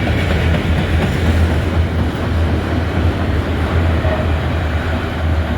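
Freight train rolling past in Abbeville, South Carolina, a loud, steady rumble with low wheel drone and faint clatter from the passing cars, continuous and close throughout.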